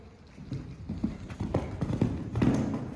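A horse canters under a rider during jump training, its hooves thudding in a steady, rolling three-beat rhythm on soft ground, close and fairly loud, with no talk.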